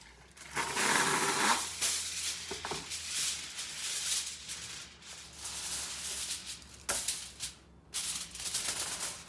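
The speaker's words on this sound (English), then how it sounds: "And then we'll put a layer of aluminum on there." Aluminum foil wrapped around BBQ spare ribs crinkles and rustles close by in uneven crackling bursts as it is folded and pressed tight. There is no talking.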